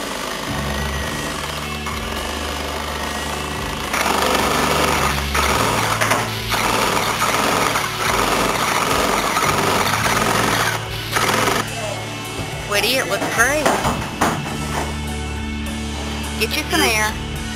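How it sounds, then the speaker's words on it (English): A paint sprayer runs steadily inside a Mustang 22 sailboat's hull with a constant mechanical hum and hiss, with clattering knocks and faint muffled voices over it. "We're going to be spraying inside the boat."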